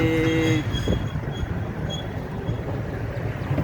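Train crossing a bridge with a steady heavy rumble and rhythmic clatter of wheels over the rails, a brief horn-like tone at the start, close and fairly loud with no voices.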